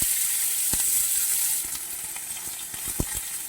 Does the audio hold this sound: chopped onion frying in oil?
yes